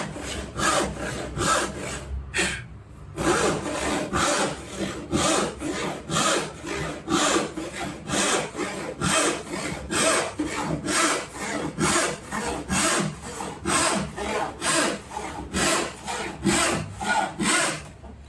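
Hand saw cutting through plywood in a steady, rhythmic back-and-forth, close and fairly loud, with one brief pause early on and no talking.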